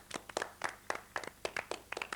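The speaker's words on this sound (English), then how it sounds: "Round of applause." A small scattered round of applause at a televised pop singing audition, a few pairs of hands clapping in uneven bursts, fairly quiet and close, with no talk.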